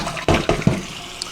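Water from a tap splashing into a container in a short burst of three quick gushing pulses, close and fairly loud, then fading.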